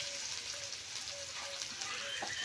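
Chopped garlic frying in oil in a pan, a faint continuous crackling sizzle with soft pops, heard close and without talk.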